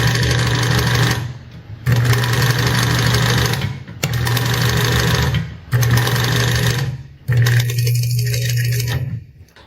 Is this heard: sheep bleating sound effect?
no